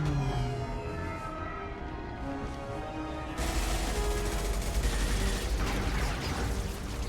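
Gunfire in the video game Mass Effect 2, a dense continuous wash of shots and impacts that swells suddenly louder partway through, over an underlying drone and mechanical hum, with no talk.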